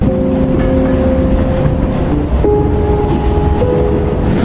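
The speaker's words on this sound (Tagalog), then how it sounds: "sumasakay siya sa parehong tren na huling sinakyan ni Gia" Steady low rumble of a train in motion, with tonal hums shifting partway through and no voices.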